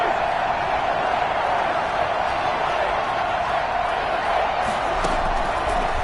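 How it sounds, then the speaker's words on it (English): Stadium crowd noise in Madden 21 on PS5, a constant roaring wash of cheering fans building ahead of a big third down, loud and unbroken, with a commentator's voice faintly mixed in. "the crowd getting into it as we come up on a big 3rd down"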